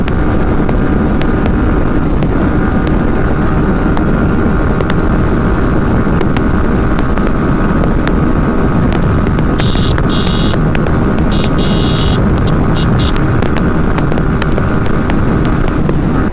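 A Yamaha R15S motorcycle runs at top speed in 6th gear, with a loud, continuous engine drone buried under heavy wind rush, steady throughout and recorded close on the bike.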